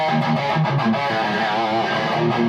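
Electric guitar played through a working 2x12 speaker cabinet, a V30 speaker setup, giving a full, sustained tone with shifting chords and some pick attacks, loud and continuous for a couple of seconds with no talking.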